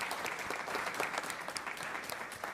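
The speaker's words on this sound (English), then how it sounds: "I want to ask everybody to give one more round of applause to our Fowey Sailfish Singers chorus" Applause for the Fowey Sailfish Singers chorus at a school board meeting, an even, continuous patter of clapping from a seated audience, moderately distant and steady throughout.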